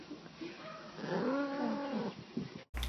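A young, skinny female cat gives one drawn-out, wavering meow at close range in a quiet room.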